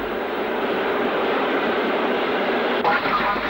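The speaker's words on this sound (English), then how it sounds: "Another Black 5 runs through on a freight towards Tysley" Black 5 steam locomotive running through with a freight train near Birmingham, a steady broad rumble of moving train noise at moderate distance, continuous for the whole stretch, with a voice speaking over it.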